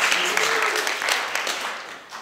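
An audience clapping at a design talk, a short burst of scattered applause that swells then fades, with some voices mixed in.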